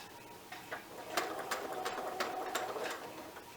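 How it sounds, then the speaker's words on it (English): Sewing machine back stitching through thick layers of quilt fabric, a faint, quick series of mechanical ticks and clicks with a soft motor hum beneath. "because there's so much fabric, I'm just back stitching"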